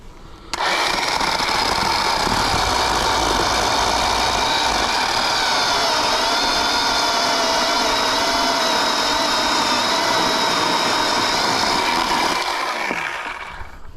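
A Worx cordless chainsaw runs at a loud, steady, high whine for about twelve seconds as it cuts through wood, then spins down near the end.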